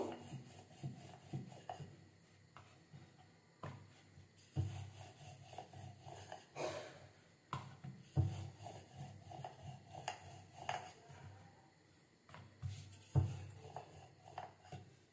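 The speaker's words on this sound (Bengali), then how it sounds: "এটা বেলে নেব এইভাবে সবকটা পরোটা আমি বেলে নেবো" A rolling pin works paratha dough on a floured board, giving repeated soft rubbing and rolling strokes in a steady back-and-forth rhythm with occasional light knocks, close by and fairly quiet, with no talk.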